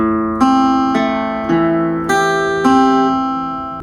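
Acoustic guitar plays the extended riff section of a song: five evenly spaced picked strums ring out and decay together, close and clear, with no voices.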